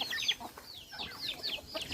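Native country rooster clucking in quick, close, chattering bursts over a short stretch, fairly faint with no talk.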